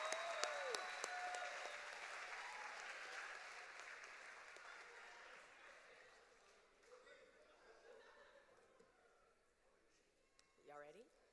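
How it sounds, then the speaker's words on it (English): A graduation audience in a high school ceremony applauds the class of 2026: dense clapping that is loudest at the start and slowly fades over several seconds. Scattered cheers rise from the crowd, and a voice speaks near the end. "Let's give a round of applause for the class of 2026."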